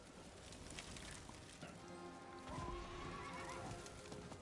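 A horse whinnies amid clip-clopping hooves and light ambient game sounds in Diablo IV, fairly faint, with the neigh rising and falling over a few seconds.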